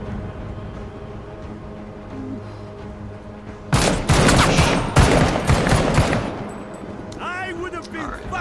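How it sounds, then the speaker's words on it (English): Loud bursts of gunfire and explosive blasts in a wartime video game fight erupt suddenly after a quieter stretch of background noise, rapid and dense for a few seconds before tapering off. "Let's launch a grenade."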